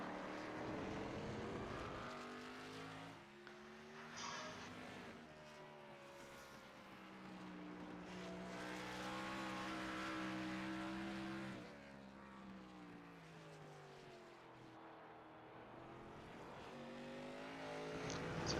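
A race car on a qualifying lap at Road America in the LEC NextGen Series, its engine a steady buzzing drone whose pitch climbs and falls with gear changes, heard from a distance without talk.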